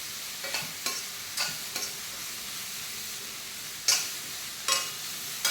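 Spring onions being sautéed in a pan while cooking egg fried rice, a soft steady sizzle with a few sharp scrapes and taps of a spatula stirring at irregular intervals, no talking.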